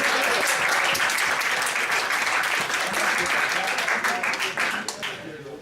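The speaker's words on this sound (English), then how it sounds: "So let's give ourselves a round of applause." A symposium audience gives a sustained round of applause, dense and even at first, then thinning out and tapering off over the final second.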